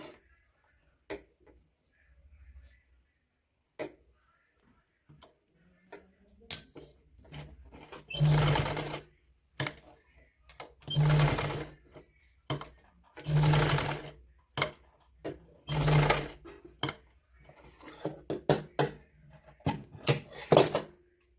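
Short bursts of a sewing machine's quick rattling stitch repeat with brief gaps as elastic is sewn onto a child's woolen pajama, preceded by quiet handling clicks and followed by lighter taps.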